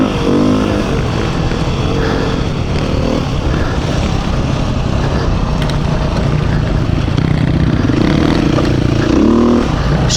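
A 2021 Beta 390 RR dirt bike is ridden along a trail, its engine droning loud and steady with rises in revs and a clattering rough-ground rumble, heard continuously without talk.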